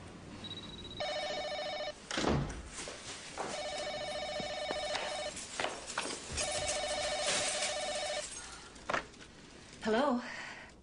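A telephone rings three times in long electronic trilling bursts after a number is dialed, each ring separated by a short pause. Brief voices and rustling fall between the rings.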